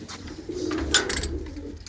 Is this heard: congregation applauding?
no